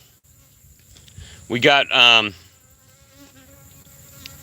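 Honey bees in an open beehive give a loud burst of buzzing lasting under a second against a quiet background, and a person speaks briefly.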